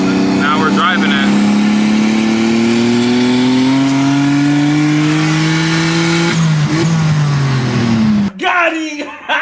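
A turbocharged Nissan Maxima of more than 550 wheel horsepower pulls hard from inside the car, its engine tone climbing steadily for several seconds before the shift, loud and close, with passengers shouting over it.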